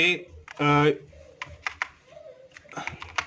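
Someone speaks, then several quick clicks of a computer keyboard follow as he types into an MS Excel spreadsheet, the keystrokes close and crisp between phrases.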